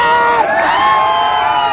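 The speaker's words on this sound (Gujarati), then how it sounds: "આમના માટે જોરદાર તાળી થઈ જાય" A crowd at a local gathering in Lunawada cheers and shouts loudly and continuously, whoops and children's voices mixed in, with no distinct clapping standing out.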